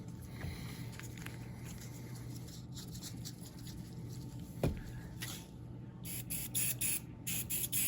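Short bursts of spray hissing close by onto the suction cup of a windshield crack repair tool near the end, following quiet handling noises and a single knock.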